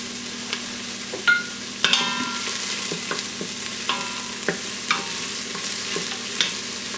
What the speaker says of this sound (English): I'm just gonna add some onions in there, not a whole lot, just enough to flavor. Let them saute so they're light brown.